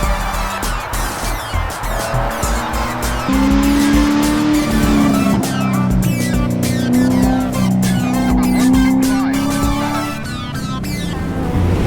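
Mazda NC Miata on an autocross course, engine loud and close as it pulls through a fast right-hander, with sustained tire squeal rising and falling over several seconds as the car slides.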